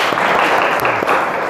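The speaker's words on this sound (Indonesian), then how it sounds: "Tepuk tangan untuk kita semua" Brief burst of applause from a class of school pupils at an Indonesian madrasah, dense and loud clapping lasting under two seconds.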